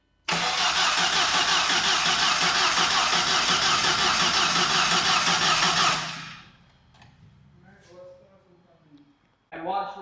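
An Audi B5 drift car engine cranks and roars loudly for about six seconds, then cuts off abruptly, followed by people talking nearby.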